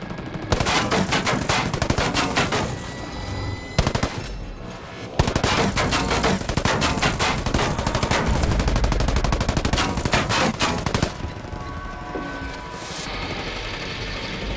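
Machine gun fire from the video game Ghost Recon Breakpoint, in a raid against the boss Titan Zeta: loud, sustained bursts of rapid automatic shots, broken by short pauses, with the firing resuming and rattling on.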